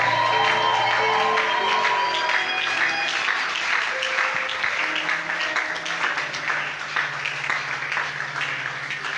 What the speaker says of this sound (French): Pourquoi ne pas pousser des cris de joie?